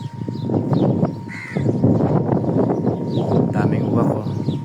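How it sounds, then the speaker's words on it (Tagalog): Many crows caw harshly and repeatedly from nearby trees where they nest, overlapping in dense bursts under wind noise while a person talks throughout. "Daming uwak oh."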